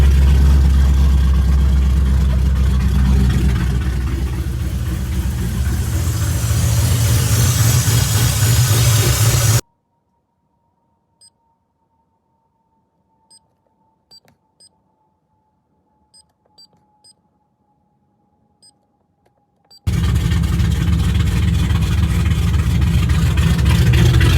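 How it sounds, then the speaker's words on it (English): A rebuilt V8 engine in a 2006 Ford Mustang GT runs loudly, cuts to near-silence with a few faint ticks for about ten seconds, then roars back up. "That cranked right up. Holy. This shit is so loud."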